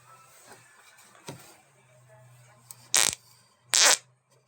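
Two short, loud farts ring out in quick succession after some faint rustling, with a low hum in the background.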